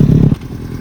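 Motorcycle rolling as the clutch eases in, a loud low engine rumble for a moment that drops off into a quieter idle-like drone.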